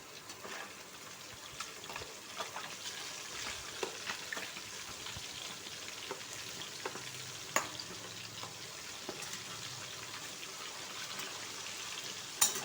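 Catla fish pieces coated in salt and turmeric fry in oil after being turned over, a soft, even sizzle with light popping crackles and a few faint clicks throughout.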